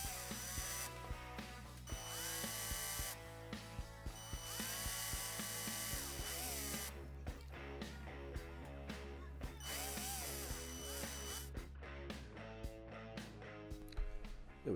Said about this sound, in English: Now comes a larger drill bit, just to take the tops off these rivets so we can pull it apart.